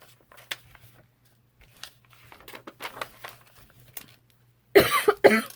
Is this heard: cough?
yes